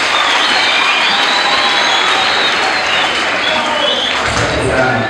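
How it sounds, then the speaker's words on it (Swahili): A community gathering bursts into loud, sustained applause to honour community health workers, with dense continuous clapping and crowd voices mixed in. "Naomba tuwapongeze makofi mengi sana."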